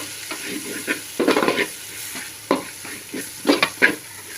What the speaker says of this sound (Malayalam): നമുക്ക് ക്യാബേജും കൂടി ആഡ് ചെയ്യാവേ ഇനി എല്ലാം കൂടി നന്നായിട്ടൊന്ന് ഇളക്കി